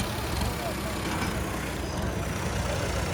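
A John Deere tractor engine runs steadily after being started, a loud continuous low diesel rumble with broadband roar throughout, close by and without pause.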